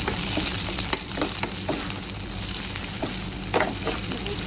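Onion, garlic, ginger and dalle chili frying in a pan, a close continuous sizzle with occasional sharp crackles and spatula stirring knocks.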